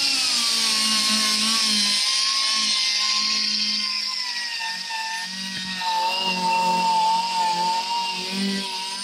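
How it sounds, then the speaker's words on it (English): A soft blue Scotch-Brite wheel on a power tool deburrs an aluminum panel, giving a continuous loud whirring grind with slight shifts in pitch as it works the surface. "take the sanding disc off and put on a Scotch-Brite wheel, which is a fairly soft one"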